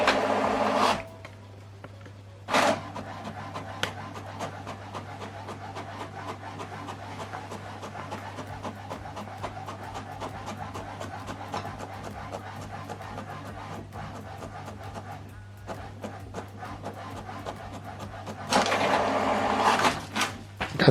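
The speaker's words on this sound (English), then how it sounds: "So now printing this document page 2 and 3." An office printer feeding and printing pages of a document, a soft continuous mechanical whir with a low steady hum, bracketed by louder bursts of paper moving through at the start and end.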